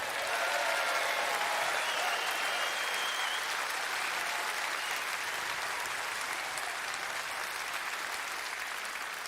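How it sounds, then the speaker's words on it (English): Steady, sustained clapping from a crowd at a Reform UK conference, loud and continuous throughout with no pauses. "Give Richard a round of applause."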